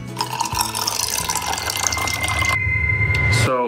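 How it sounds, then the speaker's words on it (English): Water pours steadily into a container being prepared as birthday party decor, with a loud continuous gushing and splashing that runs throughout and ends in a brief bubbling gurgle. "we filled it up with some water"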